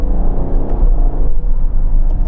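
Ferrari Purosangue V12 SUV driven on the road, a steady close engine hum and whir that swells slightly as it pulls, with no talking.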